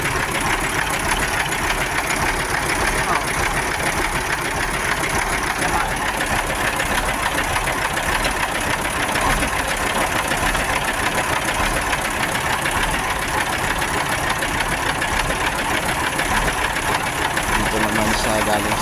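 Air compressor engine running steadily and loud throughout, a continuous mechanical drone with rattling knock, while the compressor has an air pressure fault with no air coming out.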